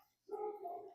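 A single short dog bark, fairly close and clear, a quick sharp yelp lasting under a second with no talk over it.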